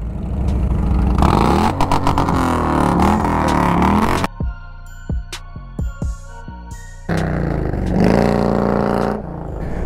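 Harley-Davidson motorcycle engine roaring and revving close by as the bike rides, loud rising throttle runs broken by a stretch of sharp pops and clatter, then another strong acceleration.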